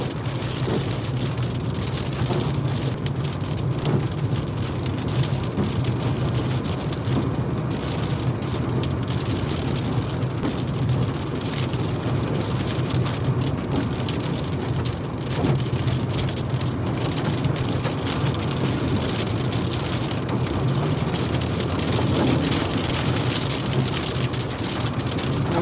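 Heavy rain pours down in the core of a storm in the Ozarks during a tornado chase, a loud, continuous dense hiss lasting throughout with a low rumble underneath and no talk.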